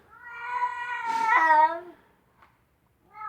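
A neutered male house cat lets out a loud, long, wavering meow, calling out to other cats, then pauses and begins another; close and clear with no talking.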